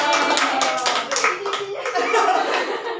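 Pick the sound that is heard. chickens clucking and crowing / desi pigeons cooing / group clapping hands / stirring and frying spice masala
group clapping hands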